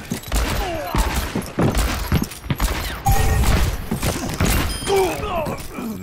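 Gunfire from the Overwatch hero McCree's revolver in a match: repeated sharp shots crack over busy, layered game effects and mechanical clatter, loud and close throughout.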